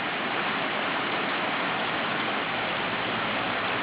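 Steady morning rain falls at Bali Hai, a continuous dense hiss of drops with no breaks, even and fairly close throughout, with no voices.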